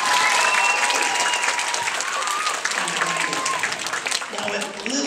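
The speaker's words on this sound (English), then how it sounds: "A big cheer for Lily" A live science-show audience cheers and applauds loudly and steadily throughout, with dense clapping and occasional whistles and shouts that ease slightly toward the end.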